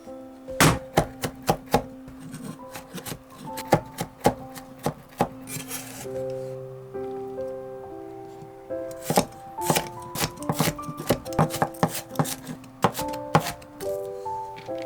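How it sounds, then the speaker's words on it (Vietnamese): A knife chops rapidly on a cutting board, mincing garlic and shallots, with bursts of quick rhythmic knocks separated by brief pauses, close and crisp. "Trước tiên mình băm nhuyễn tỏi và hành tím."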